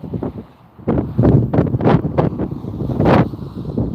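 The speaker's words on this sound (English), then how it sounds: "It just shows you how windy it is here." Strong gusts of wind buffet the microphone outdoors at Las Vegas airport in loud, uneven bursts, roaring and rumbling close by with brief lulls between blasts.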